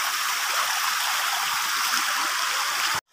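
Clear water rushes steadily down a stream at a jungle waterfall, a dense, even hiss close by. It runs alone for about three seconds and then cuts off abruptly.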